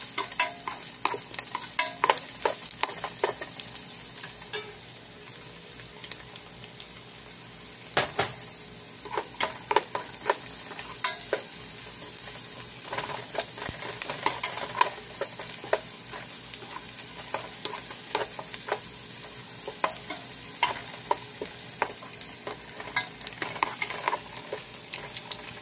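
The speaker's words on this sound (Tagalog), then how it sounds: "So, lagay na natin ang bawang" Garlic fries in a pan for banana blossom sisig with a continuous crackling sizzle. Frequent spatula stirs and scrapes come through over the long, even frying hiss.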